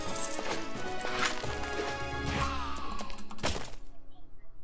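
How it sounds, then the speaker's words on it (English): Irregular banging and clattering from construction work outside, a series of sharp knocks and crashes at varying strengths, fairly close, ending in quiet. "It sounds like maybe there's someone doing some kind of construction outside or something."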